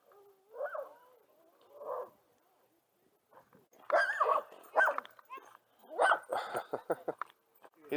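A dog near a fishing spot in the mountains gives a couple of low growls, then a run of sharp barks and yips in bursts, fairly close, with quiet gaps between.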